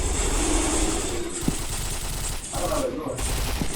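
Rapid automatic gunfire fills a shooter game, dense continuous bursts with a few sharper single shots, loud and close, with a voice briefly heard among the shots.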